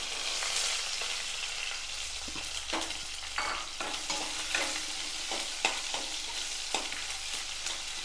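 Finely chopped small onions sauté in a pan for a dried-chilli chutney, giving a steady hiss of frying with regular sharp spatula scrapes and taps close by and no talking.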